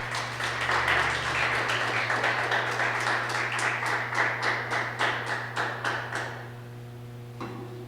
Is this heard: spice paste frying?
no